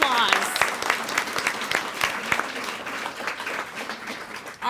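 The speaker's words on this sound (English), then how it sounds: "let's give all these people a round of applause" An audience at a student of the year ceremony applauds volunteers with a steady, dense burst of clapping that holds at a fairly even level throughout, with a voice briefly audible near the start.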